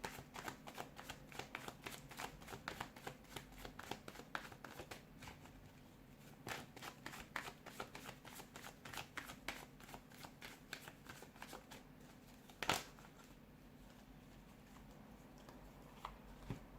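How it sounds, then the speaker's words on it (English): Tarot cards are shuffled over and over, quick riffling bursts and soft slaps in an uneven rhythm, close by and quiet, with one sharper tap near the end. "give the cards a shuffle"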